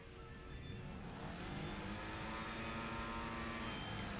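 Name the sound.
car engine revving in Wreckfest video game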